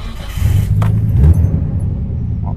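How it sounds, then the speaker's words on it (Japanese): A Nissan Skyline R31 with a six-cylinder engine idling nearby, a deep steady rumble with a slightly uneven, throbbing tone, loud and without talk over it. "これはなんか6発っぽい音がする。"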